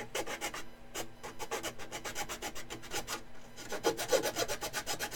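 Sandpaper rubbing mold lines off a model part, heard as a close, steady run of quick rasping back-and-forth strokes that grows slightly louder near the end.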